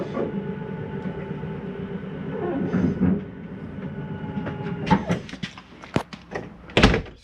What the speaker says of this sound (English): watch that slide come in